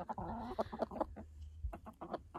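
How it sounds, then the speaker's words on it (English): Chickens clucking and murmuring around a backyard coop, a run of short close bursts with a brief lull, alone with no talk over them. "I love the sounds chickens make."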